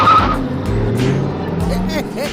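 A bus pulls away loudly nearby, its engine roaring with a brief tire squeal as it drives off, while people talk over it.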